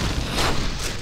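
A meteor spell explodes in Diablo II, played as a Necromancer. It makes a short, loud, noisy boom that swells briefly and fades quickly within about a second, with no talking.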